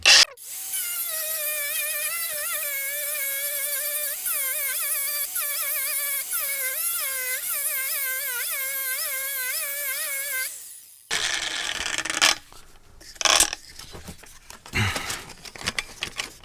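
A high, whining angle grinder with a worn fibre disc scrapes rust off metal steadily for about ten seconds, its pitch wavering, then cuts off into scattered clatter and handling noise.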